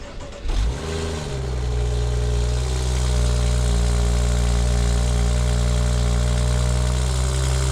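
A BMW car with an aftermarket downpipe starts cold with a short cranking burst, then holds a loud, steady, droning high idle that hums evenly for several seconds with no one speaking.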